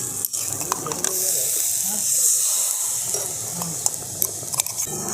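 Water poured into spice paste frying in a pan while cooking a Bengali green pea dish, giving a loud, steady hiss of sizzle and steam with scattered crackles throughout, close up with no talking.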